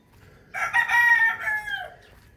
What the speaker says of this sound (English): And we do have a rooster here.